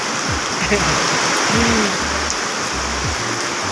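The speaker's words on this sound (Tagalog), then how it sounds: "Lakas ng ulan" Heavy rain pours outside a hotel in Baguio City amid street flooding, a loud, steady hiss of downpour and running water, with low rumbles and faint voices underneath.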